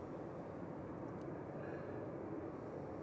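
An ETF Airways airliner arriving at Manchester Airport, its engines a steady, loud broadband roar that holds evenly throughout with no talking.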